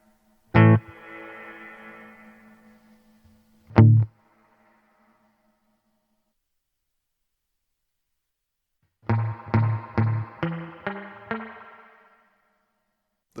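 Electric guitar through a Hotone Verbera convolution reverb pedal with the mix turned up: a few single picked notes ring out with long reverberant tails, then a quicker cluster of notes follows after a silence.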